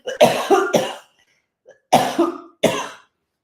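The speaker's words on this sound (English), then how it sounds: "I got a cough. There it's coming." Someone coughs in two clusters, a run of three harsh coughs, a short pause, then three more, close to the listener.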